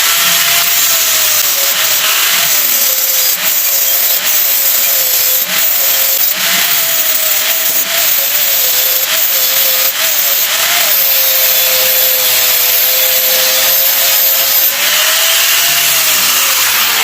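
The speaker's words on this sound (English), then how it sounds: "Still has a little bit of grinding to do on there" Power grinding on a metal part for a Sportster motorcycle oil tank: loud, close, continuous high-pitched whine that holds steady for the whole stretch, with slight dips as the grinder bears on the metal and no talking.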